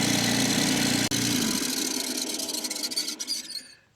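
A spare aerator air pump runs rough, giving a steady buzzing drone with a squealing, vibrating edge that falters, winds down unevenly and stops near the end, close up with no talking.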